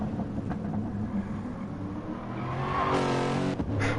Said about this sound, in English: Great noise, though, by that Lexus engine.